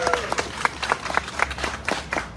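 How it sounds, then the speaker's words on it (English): Crowd at a Democratic political rally clapping, with distinct individual claps standing out in a loose, moderately loud rhythm over a background murmur. "Let's give her a big round of applause."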